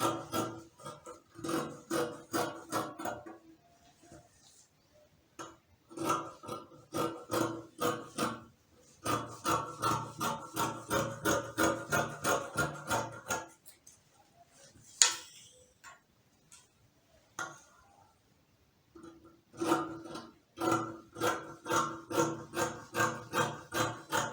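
Scissors cut the back armhole of blouse fabric in close, steady crunching snips, grouped in quick runs with short pauses between them, and no talking.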